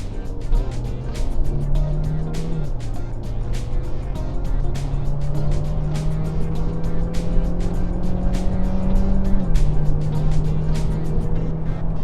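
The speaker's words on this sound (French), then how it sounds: "je me suis mis en mode sport pour voir un petit peu l'accélération que va nous donner la C5 Aircross" Citroën C5 Aircross hybrid SUV accelerating hard in sport mode, a loud engine drone climbing steadily in pitch through two gear shifts, heard from inside the cabin with a rhythmic ticking over the road noise.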